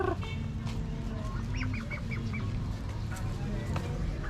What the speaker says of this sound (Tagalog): At dito makikita po natin si Itik.